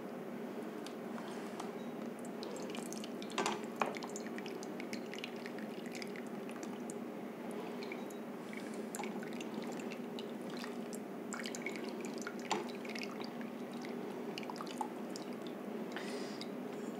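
Homemade fresh cheese draining through a filter, with soft, irregular drips and faint wet squishes throughout, quiet and close.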